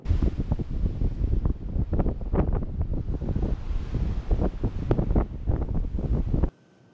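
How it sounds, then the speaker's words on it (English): Strong wind on a beach buffets the microphone in steady roaring gusts, loud and close, then cuts out abruptly near the end. "the wind is howling"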